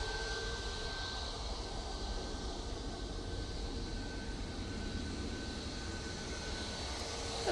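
A Ryanair airliner passes in front at Manchester Airport, a distant, faint engine rumble with a thin steady whine holding level throughout, no talk.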